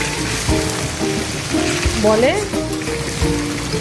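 Fish sizzles as it fries in a thin layer of oil, a constant crackling hiss running under a voice speaking close by.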